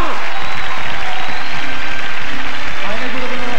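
A crowd at the 1998 Kral TV music awards ceremony applauds to welcome a band onto the stage, a loud, dense and continuous clapping that fills the whole moment.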